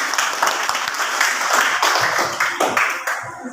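A classroom of students clapping together during a lesson, a lively burst of many hands at close range that holds steady and then thins out toward the end.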